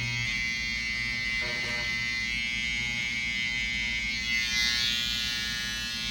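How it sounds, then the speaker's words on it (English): An electric hair trimmer, guided along a comb, cuts a hard part line into a client's hair, a steady, close, continuous buzz with slight shifts in pitch as it moves. "And then turning my trimmer over, same thing, comb,"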